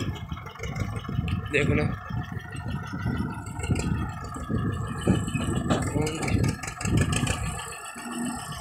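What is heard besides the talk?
Escort 335 tractor engine running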